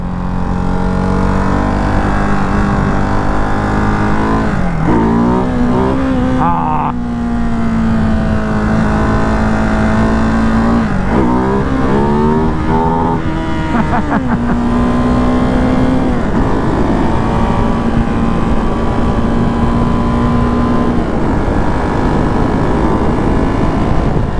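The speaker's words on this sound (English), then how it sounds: "Nobody's here, so might as well get a little wheelie in." A Ducati Hypermotard 698 Mono RVE single-cylinder motorcycle engine revving hard during a wheelie, loud and close, its pitch climbing in several sharp surges and falling back between them, then holding a steady high drone.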